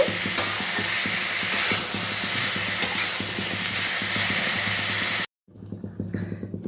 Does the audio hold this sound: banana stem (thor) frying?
yes